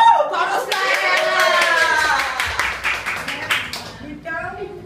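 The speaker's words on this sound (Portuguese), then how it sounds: "Palmas pra ela!" Audience clapping for a guest on a sofa interview show, a burst of hand claps running under voices that keep talking and exclaiming throughout, thinning out near the end.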